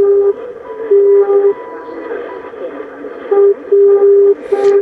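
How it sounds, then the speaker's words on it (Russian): Unusually low-toned radio navigation beacon received on shortwave with a T2FD antenna in a winter forest, sending its callsign as a steady low keyed tone in repeated long and short bursts over radio hiss. "Какой-то приводной маяк необычный, слишком низким тоном необычным передает позывной свой."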